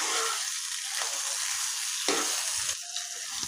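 Green chillies frying in a pan as salt is stirred in, a constant close sizzle broken by a few scraping stirs of the spoon.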